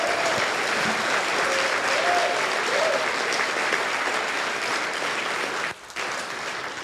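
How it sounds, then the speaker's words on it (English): A dinner audience at a Lincoln Reagan Dinner in Warren County applauds fire, EMS, police and veterans, a dense sustained clapping that fades briefly near the end, with a voice faintly underneath. "please give them a very,"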